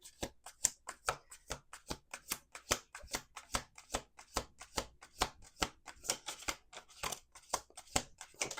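Rapid, crisp tarot card shuffling close up, a steady run of sharp riffling bursts repeating roughly every third of a second, with no voices.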